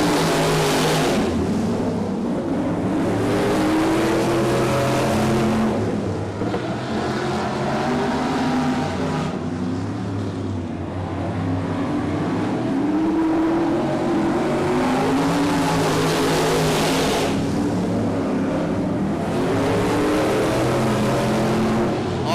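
Race cars battling wheel to wheel on a dirt track, a loud continuous engine roar with several motors rising and falling as packs sweep past, swelling and fading repeatedly over about twenty seconds.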